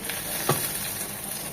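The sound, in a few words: frying ginger garlic paste with ground spices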